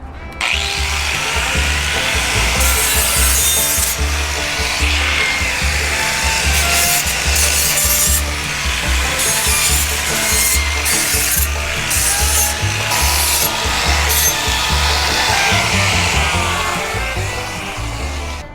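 Continuous loud grinding and rasping from a power tool deburring sheet metal during cowl-to-firewall fabrication on a rusty 1962 C10 pickup truck, with a steady rhythmic low throb and scraping bursts throughout.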